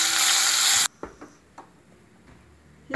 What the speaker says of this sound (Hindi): अब सबसे पहले मैं ऑयल के अंदर ये अनियन जो मैंने मोटे मोटे काट के रखे थे वो डाल रही हूँ